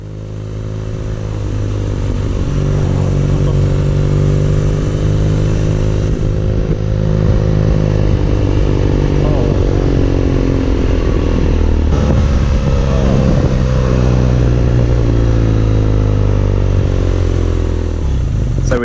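A 2019 BMW R nineT Urban G/S runs under a rider with a loud, steady engine drone whose pitch rises and falls as it accelerates and shifts, over wind and road noise.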